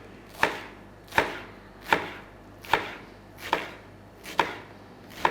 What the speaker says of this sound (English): chop a portion off, and then we can shred it nice and thin